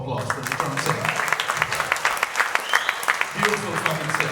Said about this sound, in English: Now a round of applause for the drum set.